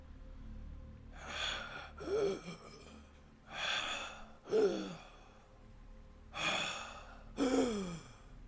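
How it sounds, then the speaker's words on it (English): Heavy, rhythmic breathing in three paired inhale-exhale bursts, raspy and close, with a faint static hum underneath like a radio channel. "He plays the transmission, and you hear heavy breathing through the transmission."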